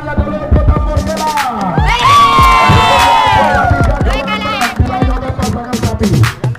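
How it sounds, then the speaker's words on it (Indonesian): A crowd at a bull race prize ceremony claps and cheers in a loud, dense burst with shouts rising over it, near and continuous throughout. "Ya, tepuk tangannya dulu untuk Tambor Bola."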